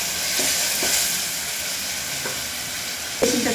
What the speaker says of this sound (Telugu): ఇది పేస్ట్ వేసుకొని బాగా ఫ్రై చేసుకుంటున్నాను.